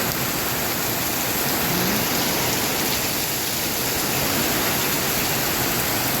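Heavy April rain pours down in a dense, continuous hiss with no pauses, loud and even throughout.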